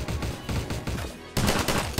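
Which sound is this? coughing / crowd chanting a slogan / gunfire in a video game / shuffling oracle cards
gunfire in a video game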